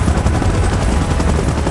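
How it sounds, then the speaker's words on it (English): Evacuation helicopter in the shooter PUBG, a loud close rotor chop pulsing rapidly and evenly with heavy low rumble throughout. "Chopper in position."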